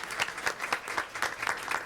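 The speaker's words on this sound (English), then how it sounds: "A round of applause for the Sea Sharks too" Applause at a school board meeting, a steady patter of many hands clapping through the whole stretch, fairly distant and moderately loud, with no voices over it.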